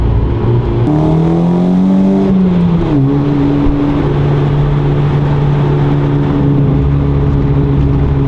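A loud car engine revs up in a rising pitch, then drops back and settles into a steady, droning idle close by.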